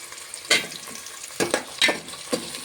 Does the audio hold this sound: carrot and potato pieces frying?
yes